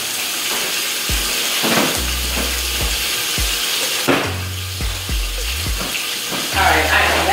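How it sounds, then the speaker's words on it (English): Shrimp are dropped and shifted in a pot of water for shrimp tacos, making watery splashes and sloshing with a steady hissing wash underneath and brief low knocks against the pot. "I am just placing the shrimp in the pot"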